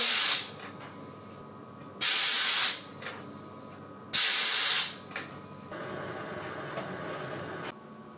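Pressurized gas burped from a beer keg of American IPA on brew day, three loud sharp hissing bursts each cut off abruptly, followed by a softer sustained hiss.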